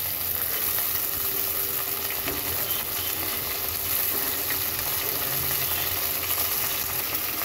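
Vegetables such as potato, eggplant and yardlong beans frying in a pan, giving a continuous, even sizzle with no pauses, moderately loud and close, with no voices.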